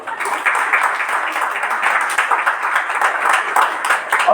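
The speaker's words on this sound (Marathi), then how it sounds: "जरा स्त्रियांसाठी जरा एकदा टाळ्या वाजवा" A congregation claps for the women during an Easter Sunday Resurrection Day sermon, a steady round of many hands that rises quickly and holds at a moderate level, without speech over it.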